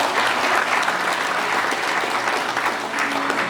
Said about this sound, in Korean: 한 분 한 분 호명이 될 때마다 큰 박수로 환영해 주시면 감사하겠습니다.